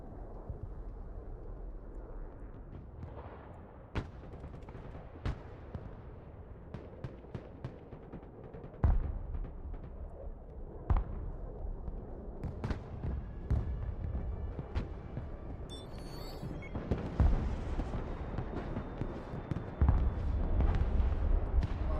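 Air strike bombs detonating in the Broken Arrow war strategy game, a scatter of sharp booms and thuds spread over a steady low rumble, with a heavier blast toward the end.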